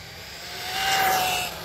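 An Arrma Typhon Grom RC car on a 4S battery rushes past at high speed, its high-pitched motor whine swelling and fading in a quick pass.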